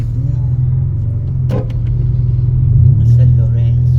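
A jeepney drives along a road near San Lorenzo with a deep, continuous engine rumble that swells slightly toward the end. Brief voices sound in the background.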